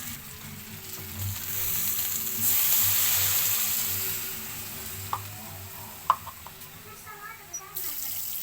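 Steady sizzling of pork frying in a pan, with a louder surge partway through and a few light clinks of stirring.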